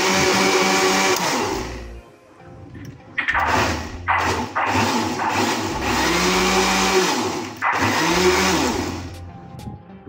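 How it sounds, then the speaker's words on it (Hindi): A kitchen grinder blends mango and milk for a shake, its motor whirring loudly in uneven bursts that stop and restart several times as the mixture churns. "फिर आपने ग्राइंडर चला देना है।"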